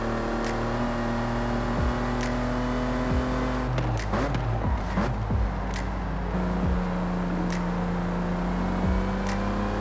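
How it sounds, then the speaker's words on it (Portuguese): Land Rover Velar engine in Forza Horizon 5, a steady droning idle-to-cruise hum with gear changes and revving swells, loud and continuous throughout with no talking. "Vamos curtir um pouquinho o som do carro agora."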